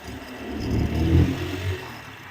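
Motorcycle engine while riding on a partly unpaved road with dirt sections, a steady mid-pitched drone that swells and revs near the middle, close and continuous with no talking.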